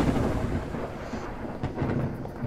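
Video game storm with steady rain and a long, low rumbling roll of thunder, loud and continuous with no talk.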